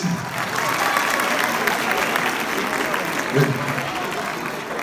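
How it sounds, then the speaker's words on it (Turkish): Applause from a crowd at a university recreation night closing event, a steady broadband clatter of clapping lasting throughout, with a few voices mixed in and a brief louder burst near the end. "Alkış alkış"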